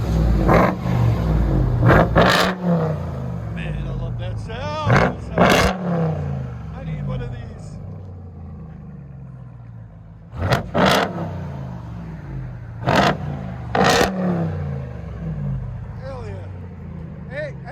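A Ram TRX's supercharged 6.2-liter Hemi V8, run with muffler delete and straight pipes, revs in repeated loud bursts separated by idle, with supercharger whine and people talking between the blips.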